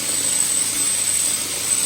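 A helicopter seen up close gives off a steady, loud, broadband roar with a high whine on top. No voices are heard over the engine and rotor noise.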